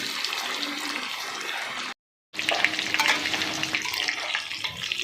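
Chicken pieces frying in hot oil in a pan for a Lays-coated chicken fry, a steady broadband sizzle with light clatter, briefly cut to silence midway before resuming just as strongly.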